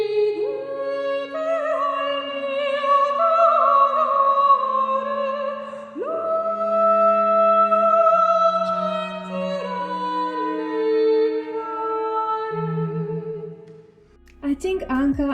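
An excerpt from Handel's opera Alcina: a sustained operatic voice with vibrato sings over accompanying instruments in long, legato phrases that shift pitch partway through. The music fades near the end and other sound briefly breaks in.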